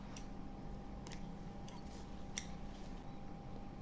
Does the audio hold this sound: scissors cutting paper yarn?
yes